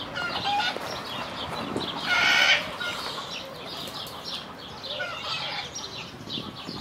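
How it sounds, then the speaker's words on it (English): Chickens cluck and a rooster calls amid a busy zoo enclosure, with a louder burst of squawking near the middle and steady fowl chatter throughout. "There's chickens everywhere."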